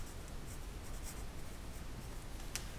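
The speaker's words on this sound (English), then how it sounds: "on the bottom of my thin section description, I will write" A pen scratching across a paper thin section description sheet, a faint, close, continuous scribble with small strokes and no speech.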